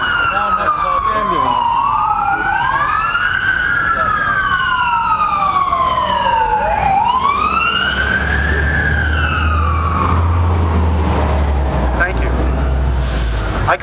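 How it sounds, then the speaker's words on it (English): An ambulance siren passes at an outdoor open-carry rally, its loud wailing tone sweeping up and down as it approaches and fades, with a low engine rumble underneath. "Here come the sirens. I think we're in trouble. It's an ambulance."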